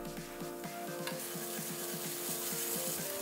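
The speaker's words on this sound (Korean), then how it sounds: "식용유 2스푼 달궈지면 대파 넣고 볶아서 파기름 내주고" Green onion and onion stir-frying in hot cooking oil in a pan over medium-low heat, a steady close sizzle with rhythmic scraping strokes of stirring throughout, no voices.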